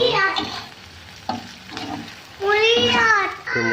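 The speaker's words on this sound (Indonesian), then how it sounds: "terus digoreng bawang pre-nya ya sampai setengah matang itu" Leeks frying in a pan for a beef broth, a steady close sizzle with stirring, under intermittent talking from a woman.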